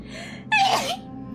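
A single sharp sneeze from a person with a cold, close and loud, a short burst over quiet background with faint room noise before and after.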